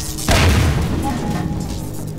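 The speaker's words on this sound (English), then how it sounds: "I heard a grenade." A grenade goes off in Half-Life 2, a single loud, close boom that hits abruptly and then rolls into a rumbling decay, with faint game ambience trailing after it.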